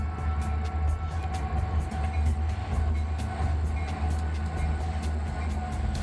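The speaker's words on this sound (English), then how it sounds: "These 4 Missouri Pacific SD40-2s make their way over the Missouri River by means of this 3-span railway bridge." HO scale model Missouri Pacific SD40-2 locomotives roll steadily over a three-span model railway bridge, a continuous low rumble with regular clicking of wheels over rail joints, close and fairly loud.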